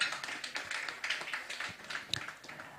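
An audience at a women's index launch event applauds a panelist with soft, quiet, dense clapping heard from a distance, a scattered patter with no voices over it.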